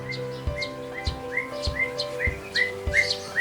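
A white-rumped shama (murai batu) sings at a bird farm, giving loud, clear whistled chirps. The phrases repeat in a steady rhythm about every half second, close to the listener, with no talking.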